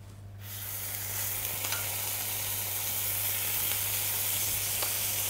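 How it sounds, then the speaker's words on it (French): Norwegian scallops seasoned with fine salt laid into very hot olive oil in a pan, a bright steady sizzle that flares up within the first second and holds loud and continuous, with faint pops and no voices. "Dans une poêle chaude, mettre un filet d'huile d'olive, assaisonner de sel fin les noix de Saint-Jacques, puis les disposer dans l'huile bien chaude"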